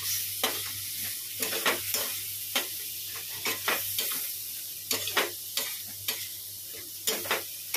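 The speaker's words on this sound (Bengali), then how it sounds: "তেলে ফোড়ন দিয়েছি হচ্ছে গোটা জিরে আর একটু মৌরি" Whole cumin and fennel seeds with potatoes fry in hot oil, a steady crackling sizzle with regular scraping stirs and clicks from a utensil against the pan, close and even, with a faint low hum under it.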